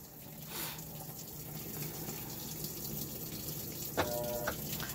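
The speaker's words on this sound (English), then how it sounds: "There's my water coming in." Warm water fills the tub of a new Maytag top-load washing machine with a glass lid and no agitator, a quiet steady gushing hiss with faint mechanical clicks and a brief tonal beep.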